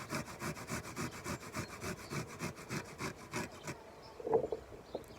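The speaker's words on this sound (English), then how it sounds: "you can either grate or you can mince the garlic" Garlic clove rubbed quickly over the smallest holes of a kitchen grater, a steady run of close, raspy scraping strokes for several seconds, then stopping.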